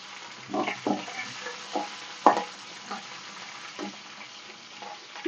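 Green chillies fry in hot oil in a pan for shavige uppittu, giving a steady close sizzle broken by several scraping stirs and a sharp clack near the middle, with no talking.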